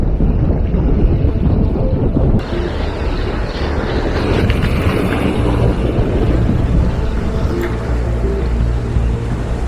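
Strong wind buffets the microphone on a Central American island shoreline during shore fishing, a loud, roaring gusty rush mixed with surf, shifting in intensity over several seconds.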